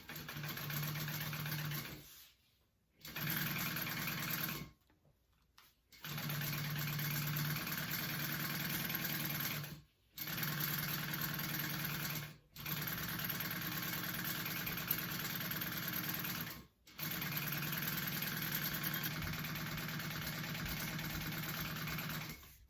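A sewing machine stitches a tote bag seam with a steady, close, continuous motor whir, stopping briefly several times between runs of stitching.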